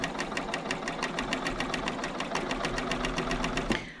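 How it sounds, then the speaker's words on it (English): Sewing machine fitted with a piping foot stitching a zipper, a fast, even mechanical rattle of needle strokes running steadily close up before stopping abruptly. "I'll take that little clip out that was just kind of helping hold the midway point and just finish stitching"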